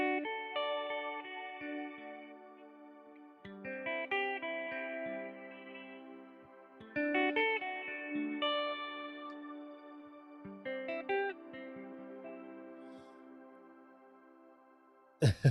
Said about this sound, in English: What kind of modeler would have that kind of reverb?